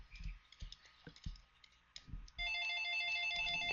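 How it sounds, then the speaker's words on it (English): A telephone ringtone for an incoming call bursts in loudly and holds a steady electronic tone pattern, following a stretch of faint clicking and tapping. "Oh, hold on, phone call."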